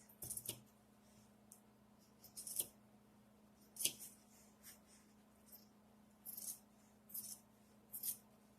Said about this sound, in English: Well, I'm cutting the second part of the t-shirt.